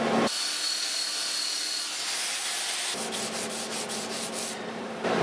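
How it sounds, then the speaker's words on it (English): Belt sander grinding steadily on a metal 40k-style power sword blade being fabricated, a continuous loud abrasive rasp close by with pulsing contact strokes toward the end and no speech. "Now to hit it with the belt sander."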